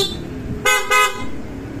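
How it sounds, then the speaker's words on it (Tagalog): A vehicle horn wired to a newly installed custom switch gives two short, loud honks in quick succession. A steady engine or road hum runs underneath. "Busina."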